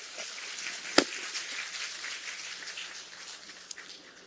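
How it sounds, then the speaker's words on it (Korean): A crowd at a People Power Party political rally in Seoul gives soft, continuous applause, with one sharp pop near the start and another later. "배현진 시당위원장께 다시 한번 큰 박수 부탁드립니다"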